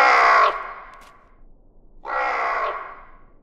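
A raven in a children's cartoon gives two loud, harsh, drawn-out caws, each lasting about half a second and separated by a short pause, with no talk around them.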